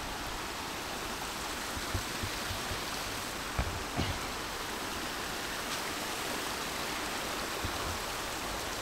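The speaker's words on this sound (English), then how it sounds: "We've got to cross the river." A river in Newbridge, South Wales, near an abandoned mill rushes steadily past, a close, even broadband wash of flowing water with a few faint knocks and no talking.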